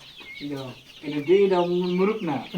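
A red desi hen clucks close by in a few drawn-out, rising calls, with a voice faintly present.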